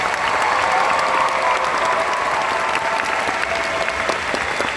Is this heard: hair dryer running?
no